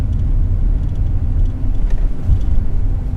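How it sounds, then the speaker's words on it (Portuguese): A 2020 Volkswagen Gol 1.0 rolls over a speed bump at 30 km/h, heard from inside as a steady low engine and road rumble with a few muffled suspension thumps. "Primeira lombada sem problema nenhum, passou com muita tranquilidade"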